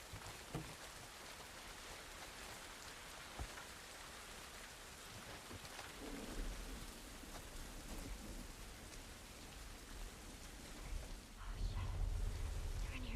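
Steady rain hisses with deep thunder rumbling in the video game The Last of Us Part 1. The downpour holds constant throughout and swells louder near the end.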